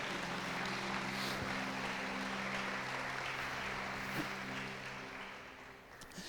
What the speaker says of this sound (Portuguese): Aplauda para Jesus então.